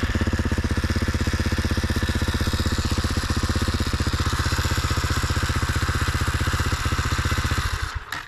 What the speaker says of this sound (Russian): после сборки мотоцикл издает странные звуки.